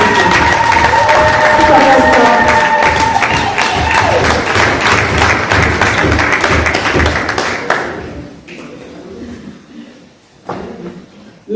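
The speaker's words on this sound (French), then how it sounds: "je demande des applaudissements" Enthusiastic crowd applause with cheering and whoops at an independence day celebration, loud and sustained for several seconds, then tapering off into quieter scattered claps.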